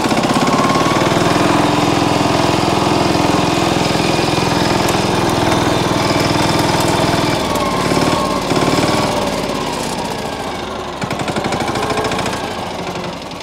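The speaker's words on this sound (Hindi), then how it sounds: "थोड़ा तो थर्ड गियर में कितना भागता है वो देखते हैं" A new tractor engine runs in third gear, a loud, steady diesel chug and rattle throughout that eases slightly and shifts in tone toward the end, no voices.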